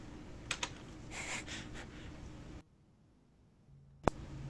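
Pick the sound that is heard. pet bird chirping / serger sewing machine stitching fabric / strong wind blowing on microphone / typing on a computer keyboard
typing on a computer keyboard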